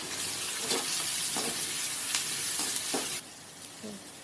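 Tomatoes for vendakkai sambar sauté in a hot pan. They make a steady loud sizzle and hiss, broken by several rhythmic scraping stirs, and the sizzle drops slightly near the end.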